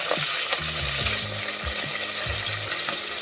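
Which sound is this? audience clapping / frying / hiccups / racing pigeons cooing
frying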